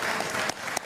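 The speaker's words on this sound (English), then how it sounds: "You guys can keep applauding." Audience applause at a live stream event with Donald Trump, a dense steady patter of many hands clapping close by, with a brief voice sound near the middle.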